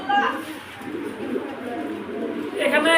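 A pair of opal-coloured Modena pigeons coo softly nearby, low murmuring calls mixed with loft background noise and faint voices.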